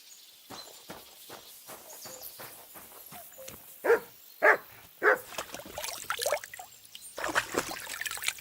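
A dog barks several times in Kingdom Come Deliverance 2: a few sharp, close barks in the middle, set among rhythmic footsteps or hoof falls and a trickle of water in the background.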